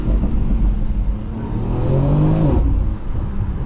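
A 2022 BMW X3 M Competition engine accelerating on a hard drive, a loud close roar rising in pitch through the revs, then easing off briefly before pulling again.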